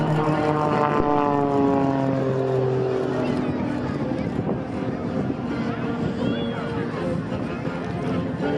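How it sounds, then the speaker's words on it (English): An Extra 300 aerobatic propeller airplane flies at an airshow at Boundary Bay, its engine drone sweeping down in pitch as it passes, loud and steady throughout, with an announcer talking over it. "built aerobatic airplane, and the incredible talent of Mr. Pete McLeod."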